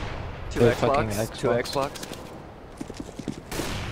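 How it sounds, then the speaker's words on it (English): Rapid bursts of video game gunfire crackle in the back half, following stretches of close, excited talk between players during a tense firefight. "Grenade out."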